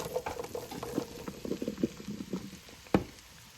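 Mushrooms dropped into a pan of melted butter with a little oil, with onions following, give a soft steady sizzle and patter, broken by scattered small plops and one sharp clatter near the end, with no voices.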